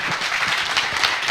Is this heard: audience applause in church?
yes